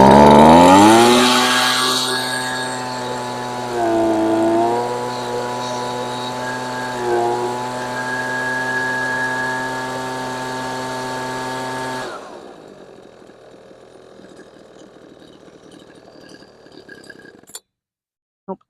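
Husqvarna 125B leaf blower two-stroke engine running lean after carburetor work, revving high then settling into a buzzing, wavering drone for about twelve seconds before cutting out, followed by faint handling noises and a couple of sharp clicks.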